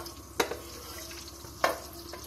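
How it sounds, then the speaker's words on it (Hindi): Almonds fry in a pan with a steady soft sizzle, broken by two sharp pops or stirring clacks, close by with no voices. "चलो अब बादाम 1 मिनट के लिए फ्राई हो गए।"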